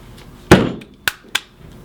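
Three sharp metallic taps on a Spyder MR100 Pro paintball marker to free its rammer, a louder first knock followed by two lighter clinks, close and isolated.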